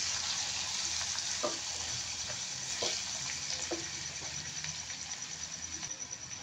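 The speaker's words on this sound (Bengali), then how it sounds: "এটা আবার একটু নেড়ে চেড়ে মিক্স করে দেবো।" Dried fish fry in a pan with garlic paste, chilli and turmeric powder, making a soft, steady sizzle broken by occasional light scrapes and clicks from stirring.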